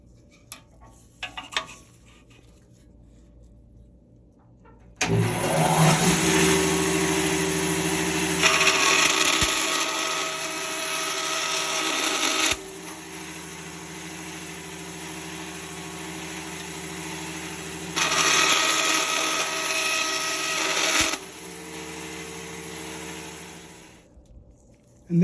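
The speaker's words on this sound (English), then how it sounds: "This is crushed turquoise, and I'm cutting this about" A saw cuts through a crushed turquoise acrylic pen blank in two long, steady passes, starting after a short quiet lead-in, with a brief lull between the cuts and no talking.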